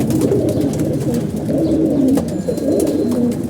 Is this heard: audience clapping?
no